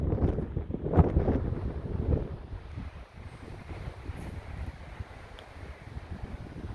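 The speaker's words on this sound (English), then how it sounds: "I'm gonna have to deal with some wind" Wind gusting outdoors at a mountain campsite, a broad low rumble buffeting the microphone, strongest in the first couple of seconds and then settling into a steadier, softer blow.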